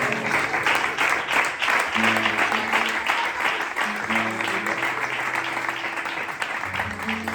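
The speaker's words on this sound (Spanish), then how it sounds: "¿Cuántos aplauden a la palabra del Señor?" A church congregation applauds during a Spanish-language sermon, broad sustained clapping over low held instrumental tones.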